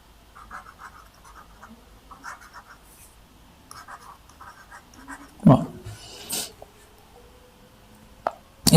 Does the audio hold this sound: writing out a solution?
yes